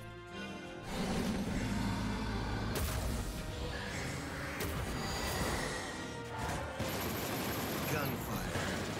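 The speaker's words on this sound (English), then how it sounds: "Gunfire" Gunfire burst from the card game Shadowverse, a dense rattling volley starting about a second in and running nearly to the end, loud and busy with other game effects layered over it.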